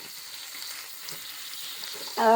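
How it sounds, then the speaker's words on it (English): Ground beef fries in a pan with a faint, soft, steady sizzle and light crackles, then a louder tone cuts in right at the end. "hamburger meat, also known as ground beef or minced beef, and I'm going to fry it and kind of, crumble it"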